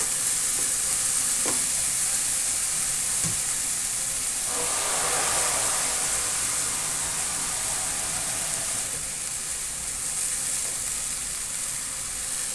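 Unsoaked mung beans are sautéed directly in a pan for Filipino ginisang munggo. A constant loud sizzle and hiss comes from close by, with a brief swell of stirring partway through and no voices.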